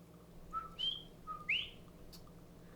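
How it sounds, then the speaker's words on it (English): A coqui tree frog calls from a beach setting with white sand and palm trees, giving thin, high whistled chirps in quick pairs that sound faint and distant over a quiet background. "This little tree frog doesn't croak, it sings its name."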